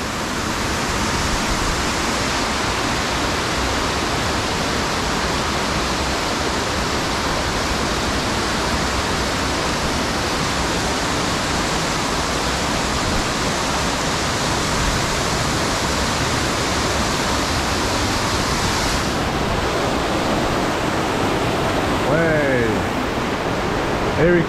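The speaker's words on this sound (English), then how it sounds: "Big waterfall." A big waterfall near the Eagle Crag and Ruthwaite mines roars in a dense, unbroken rush of water, loud and close throughout, with a brief faint sound near the end.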